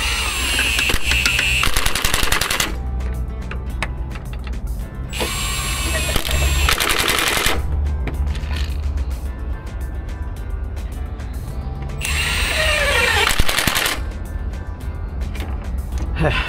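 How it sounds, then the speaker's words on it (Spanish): Bolts being tightened on a Volvo D13 truck engine with a power tool, several loud rattling bursts of rapid clicking separated by pauses, close up in a workshop. "empezamos a colocar estos tornillos, uno en cada hueco. A la redonda completamente y luego los apretamos."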